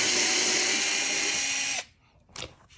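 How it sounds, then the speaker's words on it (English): An electric screwdriver removing screws from aluminum panels whines loudly and steadily for almost two seconds, then stops, followed by a couple of faint clicks and handling sounds. "Having the electric screwdriver does speed this up a lot"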